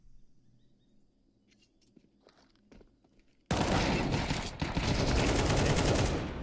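An AK rifle fires in Counter-Strike, a sudden loud sustained burst of automatic gunfire that cuts in after quiet footsteps and small clicks.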